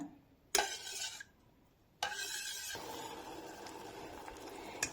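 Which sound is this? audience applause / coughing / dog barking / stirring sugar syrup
stirring sugar syrup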